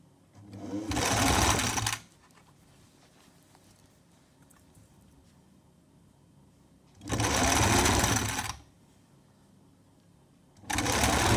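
Sewing machine running in three bursts while stitching a long kameez, each loud run of rapid stitching lasting about a second or so, separated by quiet pauses.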